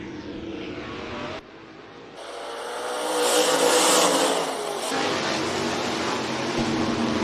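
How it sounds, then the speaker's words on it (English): Race cars roar off the front row at Rapid Speedway on a green flag start, engines swelling loudly as the field accelerates down the backstretch, a dense sustained roar that builds and then holds steady. "Sam Henderson rockets off the front row. He takes off down the backstretch."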